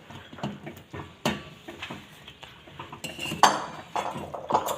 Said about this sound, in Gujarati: હવે આમાં આપણે બરાબર હલાવી દઈશું